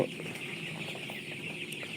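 Twelve-day-old chicken chicks peep and cluck softly in a pen, a faint, continuous chatter of small overlapping calls with no voices over it.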